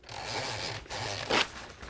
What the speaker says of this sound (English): take some paper towel